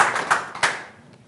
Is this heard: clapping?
yes